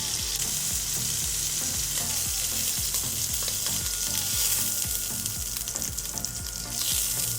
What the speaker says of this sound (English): fry them in butter in batches so they all get browned